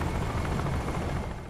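Helicopter in the video game Crysis, a steady dense rotor and engine drone that fills the whole short moment at constant loudness, with no talking over it.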